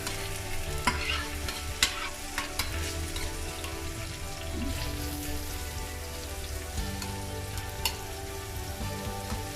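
Garlic and onions for a mutton curry are stirred as they fry in a pan, with a steady sizzle and crackle broken by periodic scraping knocks of the spoon, close and fairly loud, with no voices.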